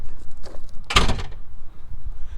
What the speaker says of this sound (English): We'll see about shutting this door.